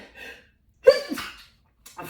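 A single sharp sneeze from a woman during an oracle card reading, close and abrupt, with soft breaths before and after.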